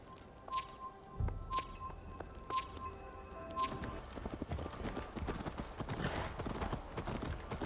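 Horse galloping in the video game Assassin's Creed Valhalla, a steady stream of hoofbeats under game music with a few sharp swooshes and a brief snort, moderately loud throughout.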